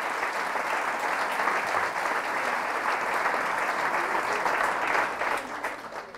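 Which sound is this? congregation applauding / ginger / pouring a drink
congregation applauding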